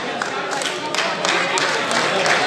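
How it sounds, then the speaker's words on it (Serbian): Crowd applause for MMA fighters after a bout at an MMA World War event in Tutin, a steady dense clapping wash lasting throughout, with an announcer's voice over it. "Molim vas aplauz i za Mirlema, odlični to borci"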